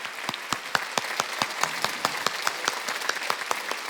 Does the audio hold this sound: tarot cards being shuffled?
no